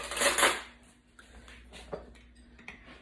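A metal spoon clinks against a glass ginger bug jar holding ginger, sugar and water, starting with one bright scrape and followed by a few faint light taps, close by and quiet.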